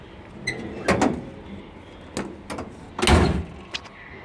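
Tool box drawers sliding open and shut several times in a row, each run ending in a sharp metallic clunk, close by with no talking.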